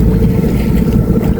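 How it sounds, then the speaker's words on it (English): A sailboat motor sailing under engine toward the Skerries off Ireland gives a steady, loud low drone of motor and water wash, continuous throughout with no talk. "Motor sailing up towards the Scaries, final half an hour."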